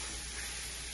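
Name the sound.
boiled chicken leg meat sizzling in pan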